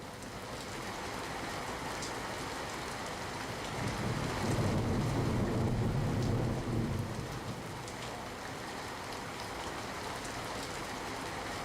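Heavy rain pours down steadily in Amreli, Gujarat, a dense continuous wash that swells with a low rumble near the middle, with no voices.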